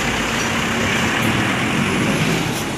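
An Apache VIP 3 city bus on a São Paulo route passes close by, a steady loud engine and road roar filling the whole moment with no voices.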